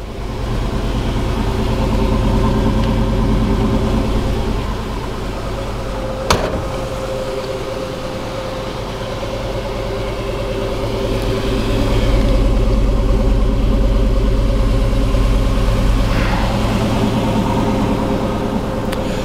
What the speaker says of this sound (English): Anybody who's a fan of a small block V8 engine would have to love that wonderful sound.